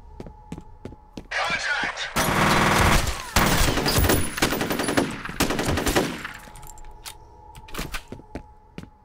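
Loud, dense gunfire from the video game F.E.A.R. erupts in sustained automatic bursts after a few sharp single shots, with scattered impacts before and after.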